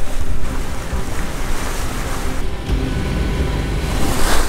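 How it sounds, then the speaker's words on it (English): Waves roll through coastal reefs along the Brazilian coast beside a sailboat, giving a loud, continuous surging wash mixed with wind buffeting the microphone, with one brief lull midway. "there are the waves that come through the reefs and the boat's so rocky."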